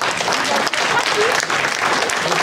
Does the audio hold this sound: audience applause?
yes